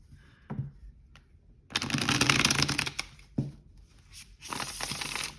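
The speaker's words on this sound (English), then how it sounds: "I think all Fournier decks shuffle like" A Fournier deck of playing cards is riffle-shuffled up close, giving bursts of rapid crisp fluttering with quieter taps and handling between them.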